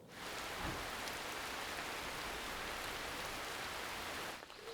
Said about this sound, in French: Il pleut quand même